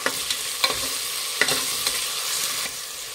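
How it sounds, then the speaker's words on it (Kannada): Ginger garlic paste sizzles in a hot pan while cooking Kashmiri veg biryani, a steady close frying hiss punctuated by a few sharp spatula scrapes and taps, with no voices. "ಶುಂಠಿ ಬೆಳ್ಳುಳ್ಳಿ ಪೇಸ್ಟ್ ಹಸಿ ವಾಸನೆ ಹೋಗೋವರೆಗೂ ಫ್ರೈ ಮಾಡಬೇಕಾಗತ್ತೆ"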